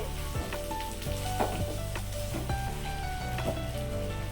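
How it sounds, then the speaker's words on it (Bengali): Pointed gourd (potol) cooks in a pan and is stirred, a close sizzle under repeated scraping knocks of a spatula against the pan at an irregular pace, with no speech. "ঢাকাটা খুলে দিলাম দেখুন জল বেরোচ্ছে একটু নাড়াচাড়া করে দিচ্ছি"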